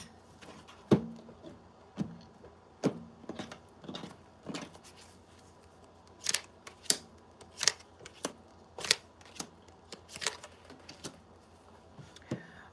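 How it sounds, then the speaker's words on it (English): Tarot cards shuffled by hand in a quiet room, a string of crisp riffling clicks and snaps arriving in irregular bursts, close and fairly soft with no talk. "I'm going to just shuffle one more time for my earth signs"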